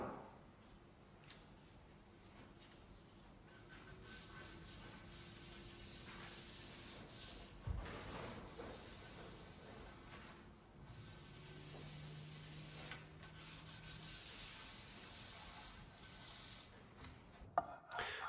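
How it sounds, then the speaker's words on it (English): Hand shoulder plane shaving micro bevels along the square edges of oak ledge-and-brace door boards, a faint close rasping rub in long strokes with occasional small knocks. "I'm using the shoulder plane to put some micro bevels on the square edges."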